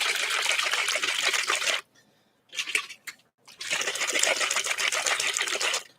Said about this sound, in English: This needs to be shaken up vigorously.